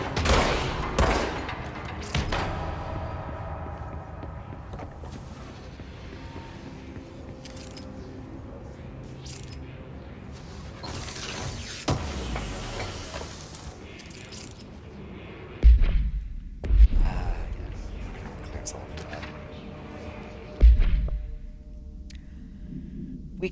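Shots fired through windows in the video game Control crack at the start and again as a few sharp, loud bangs later on. In between is a long stretch of low ambient hum with some clatter.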